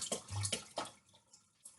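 Chilli-infused sherry splashes while being poured, a brief sequence of wet sloshing bursts up close, quiet and over within a couple of seconds.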